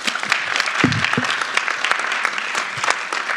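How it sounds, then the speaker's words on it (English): Applause from the audience at a panel discussion: loud, close clapping with distinct individual claps popping through the crowd sound, steady for over three seconds. "I think that deserves a little round of applause."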